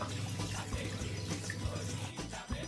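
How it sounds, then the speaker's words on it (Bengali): Water poured from a container into a pan of ground nut and poppy seed paste for aloo dum, a soft continuous splashing gush that runs for a couple of seconds, quiet and close. "জল দিয়ে দিলাম।"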